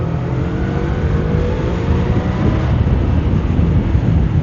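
A motorcycle engine revs hard on an Italian mountain pass, the Passo del Rombo, loud and continuous with a rising pitch under heavy wind rush at the microphone.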